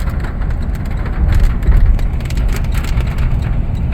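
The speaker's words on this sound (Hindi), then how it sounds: "सदियों के बाद बारिश की आवाज़ सुनी" Rain falling in a steady, close, dense hiss that thickens briefly midway, with no talking.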